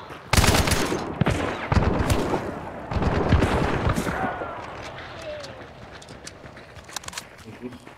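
Rapid bursts of gunfire shooting into the bush, loud and close, several sharp cracks in quick clusters that fade toward the end, with voices talking under the shots.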